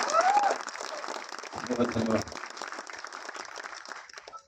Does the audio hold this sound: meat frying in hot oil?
no